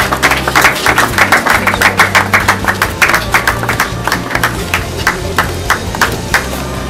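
Applause from a gathering at an evangelical event, distinct claps in a quick irregular rhythm that thin out and grow sparser toward the end, fairly close and loud with no talk.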